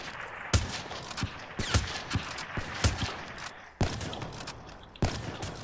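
Gunfire in a one-on-one video game match, sharp loud shots arriving in uneven bursts and single cracks over a steady background, with no talking.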